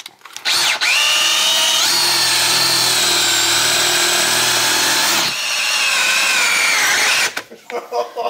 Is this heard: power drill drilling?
yes